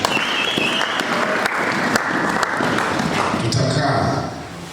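A church congregation breaks into sustained, dense applause with voices mixed in. It holds steady for several seconds, then tapers off at the end.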